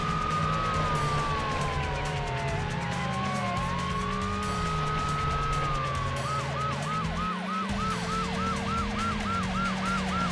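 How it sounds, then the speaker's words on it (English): A police car siren in the racing game Need for Speed: Hot Pursuit 2 wails loudly over engine noise, starting as slow sweeping tones and then switching to a fast, repeating high yelp. "What happened with your siren? It's like it became high-pitched out of nowhere."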